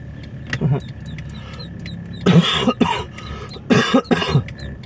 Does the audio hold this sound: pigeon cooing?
no